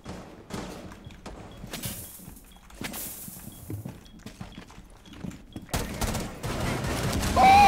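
Shotgun gunfire in Rainbow Six Siege, heavy blasts and scattered impacts among footsteps and in-game ambience, building to a louder burst toward the end.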